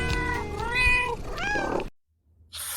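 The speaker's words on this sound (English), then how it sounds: "And, wait for it, it's the cat's meow." A domestic cat gives a drawn-out, rising and falling meow up close, then a second shorter meow, followed by a moment of silence and a brief burst of hiss-like noise at the end.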